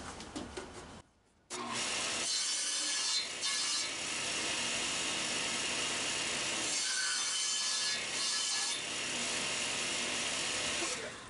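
Table saw cutting wood for a dovetail joint; a brief pause, then a loud, continuous high-pitched whine of the blade through the workpiece, with slight dips partway through.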